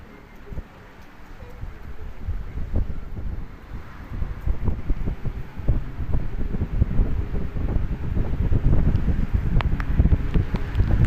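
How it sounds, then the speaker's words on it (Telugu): Strong gusts of a windy rainstorm buffet the microphone, building into loud low rumbling and irregular thumps with rustling throughout. "గాలి వస్తుంది, గాలివాన రెండు."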